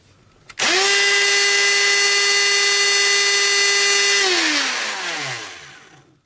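A DeWalt 18V cordless router spins up after a sharp click, holding a loud, steady high-pitched whine with strong harmonics for several seconds before winding down and fading out, close by with no talk.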